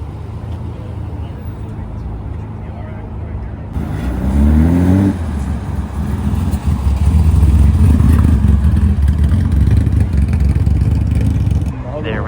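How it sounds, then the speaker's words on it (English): Nissan Skyline R32 passing at a New Year's car gathering in Japan, a loud engine rising from a background idle and roadway noise, revving up and holding a strong rumble as it drives by nearby. "I do see a nice R32 that we'll watch drive by"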